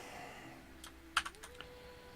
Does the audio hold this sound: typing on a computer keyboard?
yes